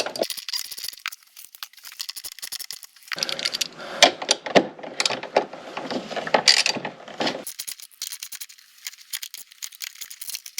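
Mounting hardware for a Torklift Glowstep step being tightened with a tool, producing close, rapid ratcheting clicks and metallic rattles in bursts with short pauses.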